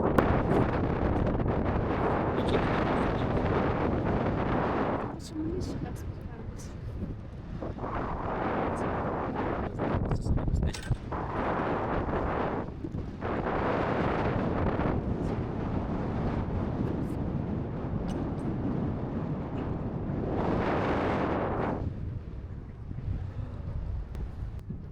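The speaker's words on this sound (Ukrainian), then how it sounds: "Вітер." Strong wind buffets the microphone in continuous roaring gusts, with brief lulls between surges, on a cold winter day near a ski lift in the Carpathian resort of Skhidnytsia; no one speaks.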